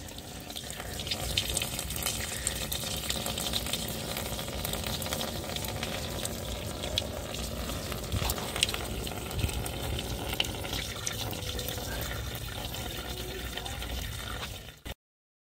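Water splashes and trickles steadily from many openings on a John Deere 60 tractor, a continuous close pouring and dripping sound with no talk.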